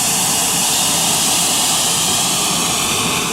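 A jet-powered car at a classic car concours roars as it drives off, a loud, continuous, broadband jet whine and rush that fills the whole clip without letup.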